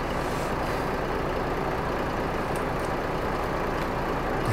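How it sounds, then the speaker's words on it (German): Loud, steady truck engine drone from Euro Truck Simulator 2, a constant heavy rumble filling the whole stretch with no break and no talk. "Der Motor ist echt laut."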